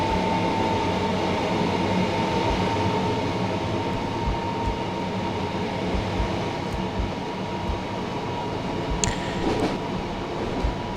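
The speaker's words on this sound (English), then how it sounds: "I just love the whine of the Class 377" Class 377 electric train in Train Simulator running from London Victoria toward Coulsdon South, a steady motor whine over continuous rumbling wheels on track, loud and sustained with a faint squeal near the end.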